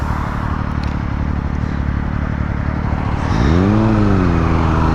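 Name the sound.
motorcycle engine revving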